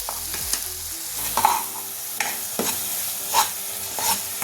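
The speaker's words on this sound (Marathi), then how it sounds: "कांदा तेलामध्ये छान परतला गेला पाहिजे।" Onion paste sautés in hot oil while a spoon stirs it, soft sizzling broken by scraping strokes and a few sharper knocks against the pan, close and moderately loud.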